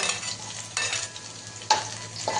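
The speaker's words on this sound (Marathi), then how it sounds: "हे बघा लसण मस्त लाल होऊ देऊ" Garlic frying in oil until browned for a Chicken 65 tadka, a steady close sizzle with a few louder bursts of stirring scrapes spread through the moment, no talk.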